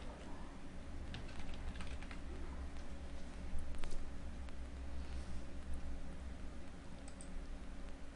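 Computer keyboard keys tapped in a steady, quiet patter of clicks while text is typed, close but soft over a faint background hum, no voices.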